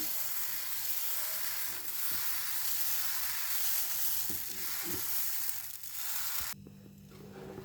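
Moong dal chila batter sizzles on a griddle greased with ghee over a low flame, giving a steady close hiss that cuts off abruptly near the end and leaves a faint hum.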